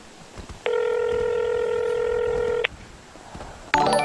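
A phone in the video game GTA 5 roleplay dials out, a loud steady two-second electronic tone that cuts off abruptly, followed by a brief burst of ringing tones near the end.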